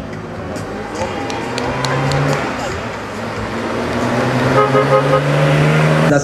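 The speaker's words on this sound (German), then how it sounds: "Burgstall mit seinem Austin Healey VJ8 MK3 aus dem Jahr 64 mit englischem Originalkennzeichen" A 1964 Austin Healey MK3 sports car with right-hand drive and original English plates runs at a historic car event, its engine rumbling and swelling steadily with a brief horn toot, while a voice talks over it.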